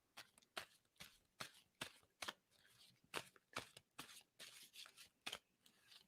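Tarot cards are shuffled by hand in a quiet room, a run of about a dozen crisp riffling bursts in an uneven rhythm, close and soft, with no talking.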